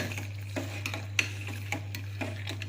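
A spoon stirs a colored mixture in a cooking pot, with repeated scraping strokes and light taps against the metal at an irregular pace over a low steady hum.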